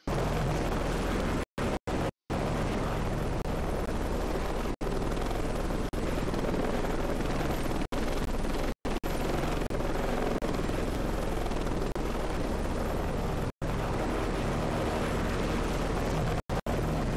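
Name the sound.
helicopter flying, from video game Heliborne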